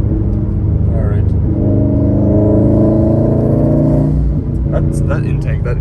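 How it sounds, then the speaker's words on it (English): A 2018 Subaru WRX STI rated at 430 hp accelerates with a loud, rising intake drone heard from inside the cabin, a layered engine roar that climbs in pitch and then eases off, while someone talks over it. "that intake likes to make this kind of like an air chopping noise"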